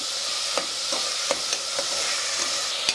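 Vegetables for mint pudina pulao frying in oil, a steady close sizzle with soft stirring scrapes and light clicks recurring throughout, no voices.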